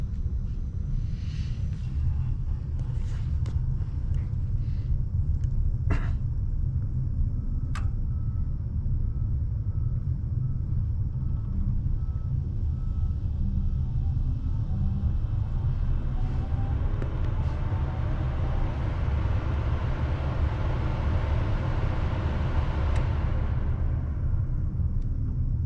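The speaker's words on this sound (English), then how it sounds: "The blower motor will come on next." A gas furnace blower motor spinning up after the igniter glows, a steady low rumbling hum with a faint rising whine partway through, continuous and close, with a few small clicks early on.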